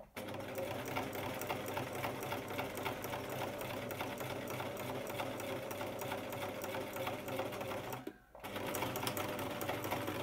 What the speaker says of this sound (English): And then I'll just do a little back stitch.